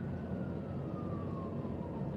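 An ambulance siren wails faintly with a slowly falling tone as it passes, under steady traffic rumble heard from inside a car.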